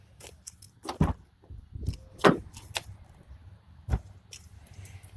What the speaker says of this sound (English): I'm going to go ahead and open the door here.